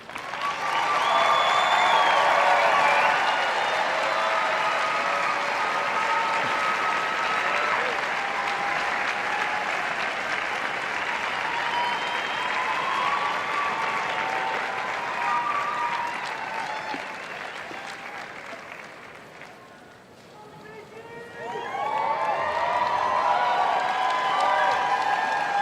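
A sellout crowd applauds at the Westminster Dog Show Best in Show ceremony, with sustained loud clapping and a few cheers that fade briefly around the twentieth second before swelling up again.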